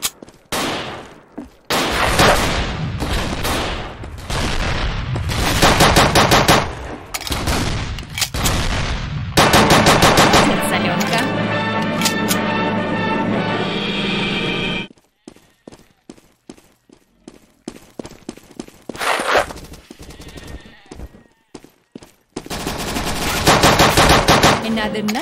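Dense bursts of rifle and machine gun fire in the World War II shooter game Dino D-Day, loud sustained volleys and rattling automatic strings broken by short pauses and scattered single shots.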